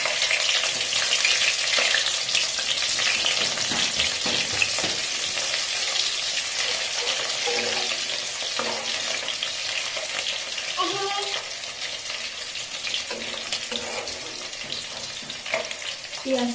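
Chopped onion drops into hot oil in a pan for fried rice, producing a loud, continuous crackling sizzle with occasional stirring scrapes and faint clinks throughout.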